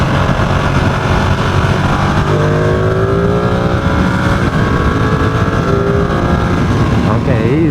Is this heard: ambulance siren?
no